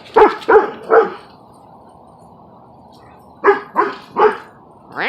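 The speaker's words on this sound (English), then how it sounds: "The dogs are all hyper and loving it." Several dogs bark in excited bursts, three quick barks near the start and another volley of three or four toward the end, close and loud with a quiet pause between.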